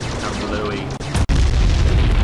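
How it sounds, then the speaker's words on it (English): A tank blows up in the video game Terminator Dawn of Fate, a deep booming blast about a second in, set within loud dense game noise before and after. "the tank's just gonna detonate by itself"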